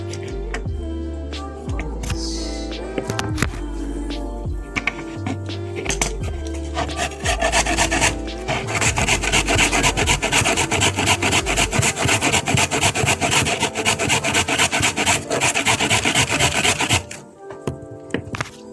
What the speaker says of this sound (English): So I like to use my hand grater.